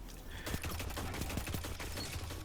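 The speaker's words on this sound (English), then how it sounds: "And this auto rifle, it does shoot, pretty straight." Rapid bursts of automatic rifle fire from a video game, the repeated shots running loud and steady through the whole stretch.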